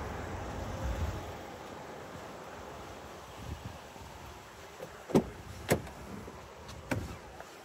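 Trunk of a retired 2016 Ford Police Interceptor SUV being opened outdoors: steady wind noise, then a few sharp, close latch clicks and a soft clunk near the end.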